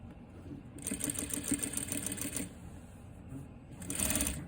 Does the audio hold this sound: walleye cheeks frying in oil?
no